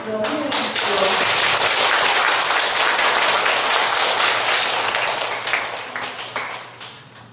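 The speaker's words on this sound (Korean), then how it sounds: "뜨거운 박수로 환영해 주십시오." An audience bursts into sustained, dense applause welcoming a priest at a lecture, the clapping loud at first, then thinning and fading toward the end, with a voice briefly heard at the start.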